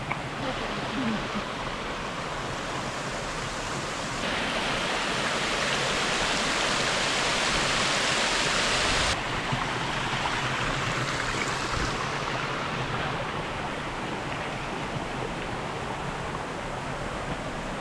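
A constant roaring rush of falling water, loud and close, filling the whole stretch with a steady broadband hiss that swells partway through.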